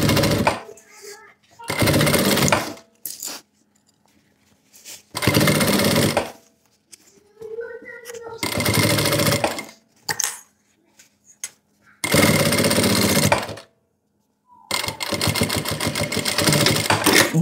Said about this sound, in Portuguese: deixa paralelo bem certinho aqui e costura